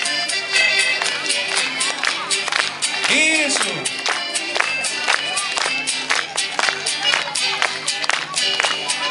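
At a school festa junina performance, an audience claps along in a steady, rhythmic beat under singing voices and music, with a brief shout among them.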